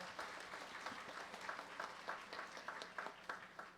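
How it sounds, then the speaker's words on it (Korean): A congregation claps warmly at an appointment ceremony in a Yeouido Full Gospel Church gathering, a steady, fairly faint round of many hands with scattered sharper claps throughout. "힘찬 격려의 박수 부탁드립니다"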